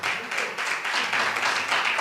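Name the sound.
congregation applauding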